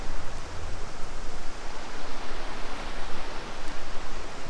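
Steady, loud rushing water from Jonathan Creek in Maggie Valley, North Carolina, on a snowy winter day fills the whole stretch as a dense, unbroken wash with no voices.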